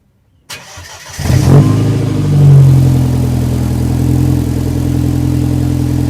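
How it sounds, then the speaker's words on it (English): A BMW F20 engine cranks briefly on a cold start, catches and roars up loudly, then settles into a steady, rumbling idle close by. "so I'm just going to give you a little cold start here"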